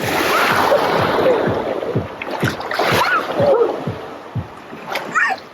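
Water in a resort wave pool lagoon at TUI Blue Ephesus in Turkey surges and splashes in repeated bursts, with rushing wash between the crashes, close by and fairly loud.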